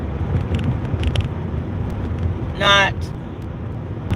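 A car drives along a road, a steady low rumble of engine and road noise throughout, with a brief higher whine near the end and a person talking over it.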